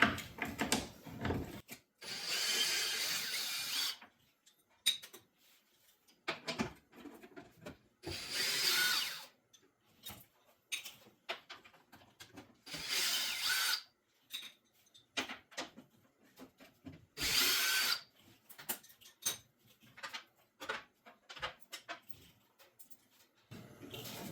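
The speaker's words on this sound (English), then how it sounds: "take the footboard off here, and they have 4 screws that you got to take out" A power driver backs out four screws from the footboard of a 2002 Polaris Sportsman 6x6 ATV, giving several separate bursts of whirring, each a few seconds long, with quieter clicks and handling noises between them.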